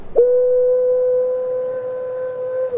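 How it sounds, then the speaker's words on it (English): A cheap ocarina recorded straight into a computer microphone plays one steady, clear note close to the mic. The note holds for about two and a half seconds and ends cleanly. "I have this dirt cheap ocarina, and I'm going to record directly into my computer's microphone a sample of this."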